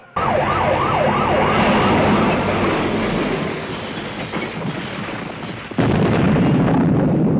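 An ambulance siren wails, rising and falling over a heavy rumbling roar, then the noise drops away before a sudden loud crash and explosion burst in.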